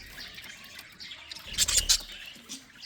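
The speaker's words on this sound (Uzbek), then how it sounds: "Ko'ryapsiz, qushlar nihoyatda yaxshi qushlar." Small birds in an aviary, including black-winged birds, chirp and tweet in a few quick bursts, with a cluster of sharper calls near the middle over a low background.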